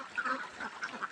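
Farm ducks bathing in a small water tank quack in a quick burst of several nasal calls, close and moderately loud.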